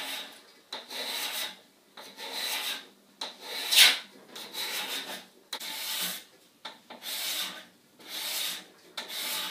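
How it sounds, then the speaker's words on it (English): A card scraper made from handsaw plate scrapes dense native wood in repeated rasping strokes, about ten close, loud passes separated by brief pauses, with no talking. "the handsaw plate card scraper on one of the densest woods that I know of"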